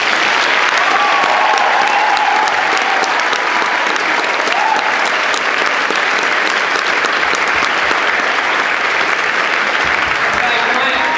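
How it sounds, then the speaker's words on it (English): Sustained audience applause at a school celebration service for a Year 13 class, a steady, dense wash of many hands clapping, loud and unbroken with faint voices underneath. "So why don't we give a big round of applause."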